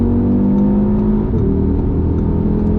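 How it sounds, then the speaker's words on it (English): A 2020 Audi RS3 engine pulls hard under acceleration, heard from inside the car as a steady, loud drone whose pitch shifts partway through as it gears up, with no talking. "The engine sounds really, really good."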